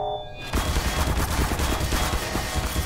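Rapid enemy gunfire in Half-Life 2, a dense fusillade of shots that bursts in after a brief quiet start and keeps rattling loud and close with no talking.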